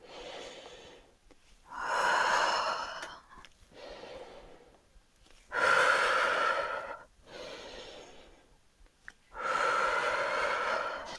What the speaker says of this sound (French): Et on remonte, on inspire et on expire.